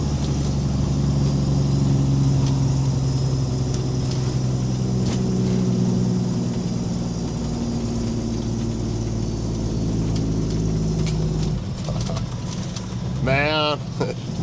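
A car on the road heading back to a shop, its steady engine drone and road rumble running throughout while someone talks over it.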